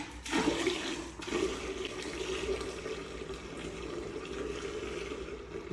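A toilet flushes through a freshly cleared drain pipe, with a sharp initial rush followed by steady, fairly loud water draining and swirling away, close by, with no talking.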